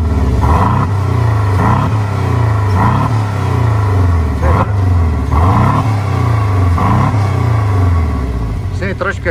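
A 2020 Porsche Cayman's boxer four-cylinder engine revs repeatedly in a steady rising-and-falling cycle, loud and near, with a deep rumbling drone throughout.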